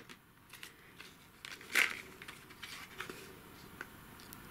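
A small sealed package with a sticker on top, holding a diamond painting pen, is opened. The sound is quiet and close: soft rustles and crinkles, one sharp tearing or cutting snip, then more faint handling noises.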